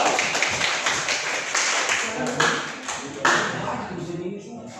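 A group claps and applauds together, a dense crackle of hand claps that swells briefly and then fades out toward the end.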